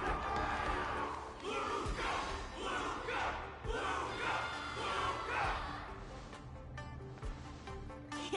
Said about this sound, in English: Can't you hear? Everyone's cheering for you, Luka!